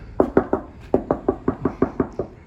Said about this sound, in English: Let's do a knock test on this